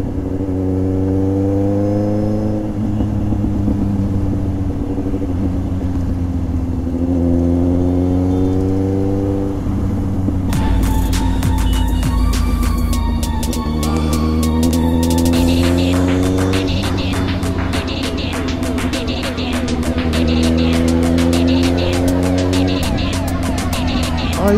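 Busy road traffic in Bareilly city, a loud, steady engine drone close by with rising and falling revs, passing vehicles and a burst of horns or rattling midway, voices faintly under it.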